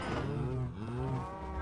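Cows in the video game Minecraft give a continuous, close and fairly loud moo, one long drawn-out call that fills the whole moment with no talk over it.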